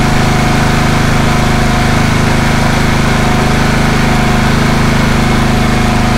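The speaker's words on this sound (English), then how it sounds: "fire up the engine, run up the throttle." The engine on a pole/reel/dump trailer's power unit runs loud and steady at full throttle, a constant droning hum held without change for about six seconds and no voices.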